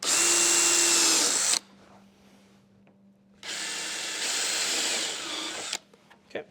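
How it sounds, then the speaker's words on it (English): A power drill with a step bit bores a quarter-inch hole in the wall of a 2023 Ford van, whining loudly in two long bursts separated by a quiet pause and ending with a few short blips. "to take my step bit and just make myself a 1/4 inch hole"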